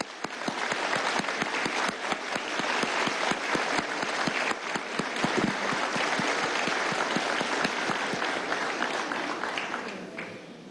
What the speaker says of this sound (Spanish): A todos ellos les pido, por favor, de parte de ustedes un aplauso